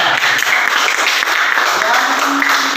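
Students in a classroom during a short-story lesson applaud a classmate with loud, continuous, close-up clapping that fills the room, with voices mingling beneath it.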